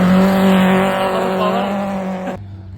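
A modified VW Polo GT rally car from team Killerbull in Kerala races past, its engine a loud, sustained, high-revving whine with tyre noise that drops away abruptly near the end.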